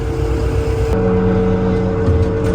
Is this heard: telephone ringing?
no